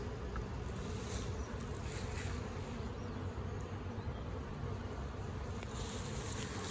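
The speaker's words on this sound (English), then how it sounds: "Ooh, we got bees." Honey bees in an opened beehive during an inspection, giving a steady, dense buzzing drone that holds close and fairly loud for the whole stretch, with no talking over it.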